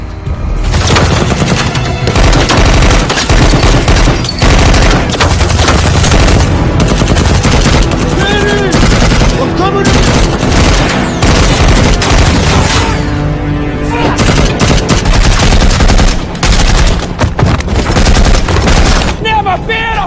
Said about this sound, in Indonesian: tiba-tiba saja mendengar tembakan